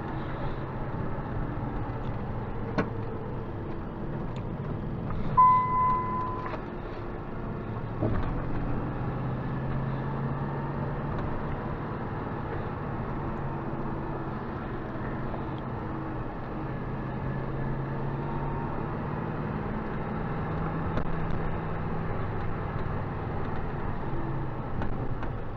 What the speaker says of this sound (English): Let's drive around here and see if we can find any more stuffs.